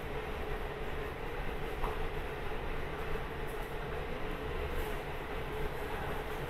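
A train rolls past near a Wegmans store, a steady broadband rumble and rattle of railcars holding constant throughout, fairly loud and without voices.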